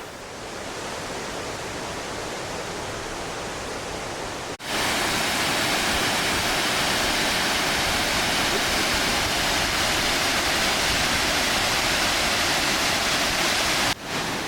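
The Kolling waterfall on a hiking trail in Germany or Austria, a steady, dense roar of rushing water that grows noticeably louder partway through and stays constant and close, without talk.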